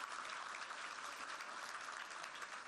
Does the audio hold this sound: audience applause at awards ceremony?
yes